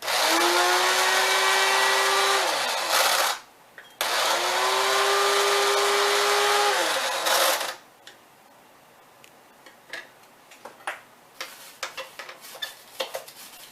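A blender grinds dried vegetable leaves into powder in two loud, close bursts of a few seconds each, the motor whining and changing pitch as it spins up and down, followed by quieter clicks and taps.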